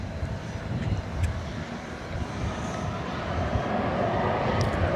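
An airliner departing DFW Airport for San Jose on a windy evening, a low, steady engine rumble that grows slightly, with wind buffeting and faint distant clicks.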